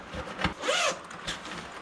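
A zipper on a pocket of a KemiMoto motorcycle bag is pulled in a quick rasping run, with a couple of short clicks of handling before and after, close and clear.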